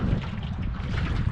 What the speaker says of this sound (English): you can tell it's windy, we're kind of rocking